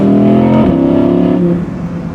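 A supercar engine revs loudly and close up through a couple of quick downshifts. Its droning pitch jumps and settles twice before the sound eases off toward the end.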